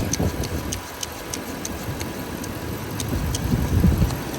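A 2006 Range Rover with an overheating fault and a suspected head gasket problem idles steadily, giving a low engine rumble with faint, regular ticking on top, close by and continuous with no talking.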